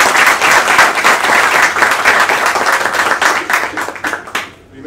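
Loud, close applause from a JavaScript meetup audience, dense clapping sustained for about four seconds before tapering off abruptly at the end.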